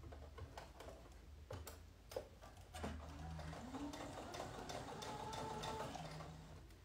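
A domestic sewing machine stitching two layers of fabric, its needle ticking in quick rhythmic bursts that stop and restart, then run into a steadier whirring hum.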